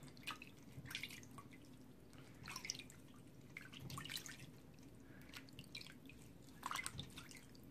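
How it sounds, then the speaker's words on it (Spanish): Hands being rinsed in fresh water after a coconut, sugar and bee pollen scrub, with soft continuous splashing and dripping, faint and close, with no voices. "se enjuaga sus manitas en agua fresca"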